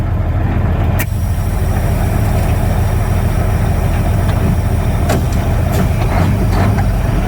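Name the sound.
Mack truck engine as the truck starts rolling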